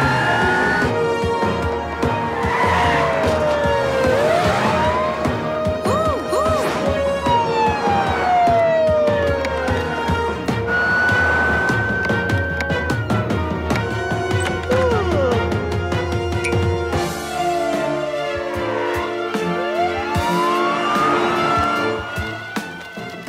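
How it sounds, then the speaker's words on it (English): A loud cartoon police siren wails and rises and falls repeatedly, mixed with engine and music-like sounds, continuous for the whole stretch. "Hit the sirens."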